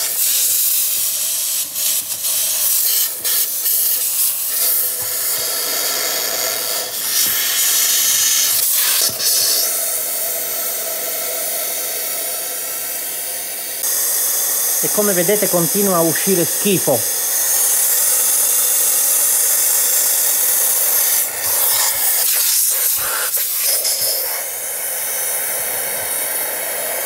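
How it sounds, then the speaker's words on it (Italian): A steam cleaner hisses and sprays while cleaning the valve cover of a Fiat Panda Young with the 900ie engine, a loud continuous jet running in long bursts with short breaks, with someone speaking Italian over it. "Il vapore."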